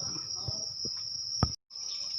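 Farmed crickets in a breeding pen give a continuous high, steady trill, close and clear, with a few soft knocks and a brief break near the end.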